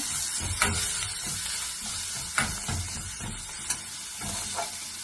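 Vegetables for a beef roll filling stirred and sautéed in a hot pan, a steady close sizzle broken by a few sharp scraping clatters of the spoon, with no talking.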